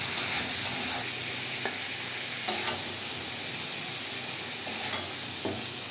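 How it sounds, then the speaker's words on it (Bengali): Prawns fry lightly in hot oil for a Bengali potol chingri dish, giving a steady bright sizzle throughout, punctuated by a few soft stirring scrapes, close and without speech. "আমি মাছটাকে হালকা করে ভাজবো, বেশি ভাজলে চিংড়ি মাছ এমনি শক্ত হয়ে যায়"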